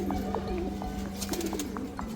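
Soft, repeated cooing of sick pigeons in a cage at close range, low and rhythmic over a steady background hum.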